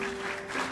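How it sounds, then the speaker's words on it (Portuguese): Brief burst of church congregation applause during a sermon, steady clapping from many hands with a constant tone running underneath. "Aplauda o Senhor Jesus."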